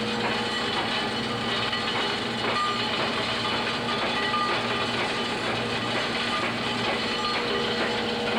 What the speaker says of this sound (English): The noise you're hearing is the coal coming from inside, that's flowing inside the conduit.